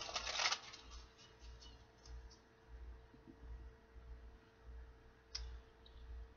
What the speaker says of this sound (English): Let's get one more shuffle, my guides, for